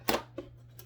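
Quick metallic snips from scissors or clippers cutting thin craft wire for a handmade flower, three short sharp clicks close by over a faint steady hum.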